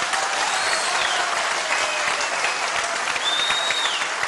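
A studio audience at a live television debate show applauding, a dense steady wash of clapping that continues at full strength for several seconds.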